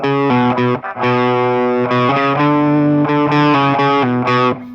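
A distorted electric guitar plays the repeating riff of a song, quick notes with a pull-off between fretted notes, loud and up close with no voices.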